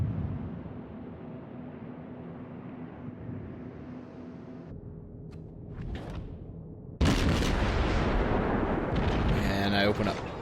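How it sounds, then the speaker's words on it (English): Warship guns firing in World of Warships, a booming volley that breaks in after a stretch of low engine rumble and holds as a loud, dense roar of gunfire and blasts, with a voice talking underneath. "So I'm turning to get my guns on him."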